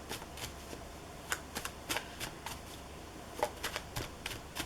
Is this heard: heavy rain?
no